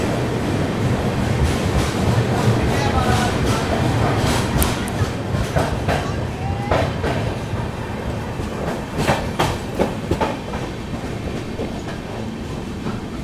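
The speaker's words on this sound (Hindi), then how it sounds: "निकल गई अपनी ट्रेन बल्हारशाह से" The Tamil Nadu Express passenger train rolls along the rails out of Balharshah during the monsoon, a loud steady rumble with rhythmic clickety-clack of wheels over joints, heard from inside the coach.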